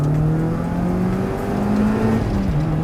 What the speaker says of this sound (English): Granted, it's not the most sonorous engine, it's quite a forgettable noise really.